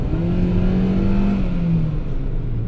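A car engine revs and accelerates hard while driving through a city, a loud steady mid-pitched drone with a rising whine, heard close and alone.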